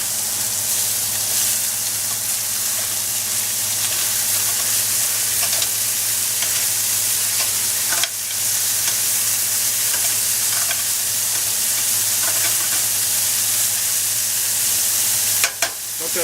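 Lamb chops sizzle loudly in a hot pan, a dense steady hiss with crackles running under it. Soft clicks and scrapes mark the chops being flipped one by one.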